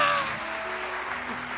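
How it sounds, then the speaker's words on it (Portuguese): Congregation applause in a church service, a continuous wash of clapping that stays steady and moderately loud throughout with no talk over it. "Você pode dar um aplauso ao Senhor Jesus?"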